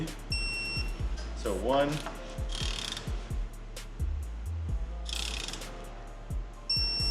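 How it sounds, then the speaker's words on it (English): An electric torque wrench tightens cylinder head bolts on a BMW M52 engine, giving ratcheting mechanical clicks, a whirring rise and electronic beeps, close by, while a person talks. "I have the electric torque wrench, so it makes my life really easy."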